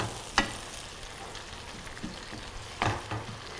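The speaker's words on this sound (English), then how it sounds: "Always the smell of garlic when it hits the pan." Garlic sizzling in a hot pan, a soft steady frying hiss with a couple of sharper clinks or stirs, fairly quiet and without talk.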